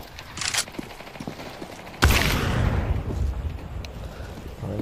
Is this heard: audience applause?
no